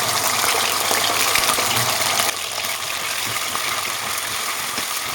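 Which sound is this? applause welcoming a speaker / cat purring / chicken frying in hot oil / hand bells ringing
chicken frying in hot oil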